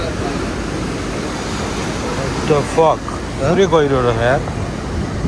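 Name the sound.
sea waves crashing at Dwejra Bay, Gozo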